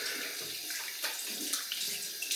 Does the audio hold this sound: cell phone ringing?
no